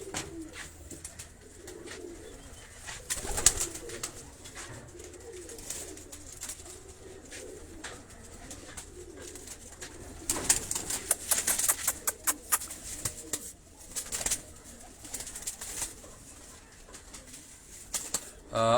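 Soft, low pigeon coos repeat in an outdoor setting, joined by occasional rustling and bursts of bird chatter; fairly faint and steady throughout.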